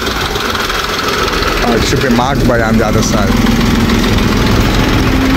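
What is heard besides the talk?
Sri Lankan tractor engine idling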